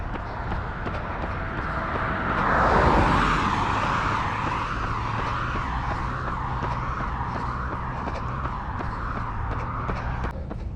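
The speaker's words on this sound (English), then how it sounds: "they're paving the road" Along a road being paved, a continuous broadband roar of traffic and roadwork fills the scene. One car swells louder as it passes early on, then a steady wash of vehicle noise holds to the end.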